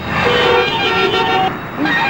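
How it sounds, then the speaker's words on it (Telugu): Car horns honk loudly and repeatedly over road traffic noise in a congested street, with sustained toots overlapping close by and engine hum underneath. "ఇదేం ట్రాఫిక్"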